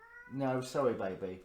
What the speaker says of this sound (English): that was the cat, if you could hear her on the microphone